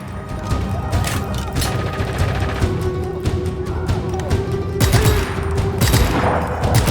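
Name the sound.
gunfire in the video game Just Cause 3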